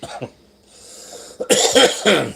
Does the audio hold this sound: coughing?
yes